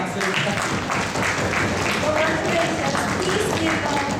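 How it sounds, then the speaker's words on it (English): Audience at a high school English debate championship final clapping in congratulation, a continuous wash of many hands heard at moderate level, with a voice speaking faintly over it. "여러분 다시 한번 축하의 박수를 부탁드립니다."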